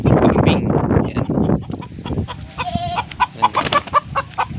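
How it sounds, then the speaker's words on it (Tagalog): Chickens cluck from a coop out in the middle of a rice field, with sharp fowl calls and a brief crowing-like note over a busy outdoor background. "Kulungan ng mga manok,"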